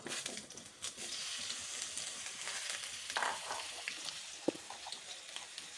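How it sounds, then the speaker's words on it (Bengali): Potatoes fry in oil in a wok, a soft, steady sizzle with occasional light crackles and stirring clicks, fairly quiet throughout. "আলুটা ভেজে নেব"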